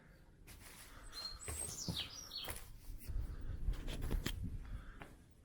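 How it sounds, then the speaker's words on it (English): Birds sing and twitter in short whistled phrases over rustling and soft patter at a historic quarry site in Kent, with light background noise throughout. "It's beautiful hearing the birds."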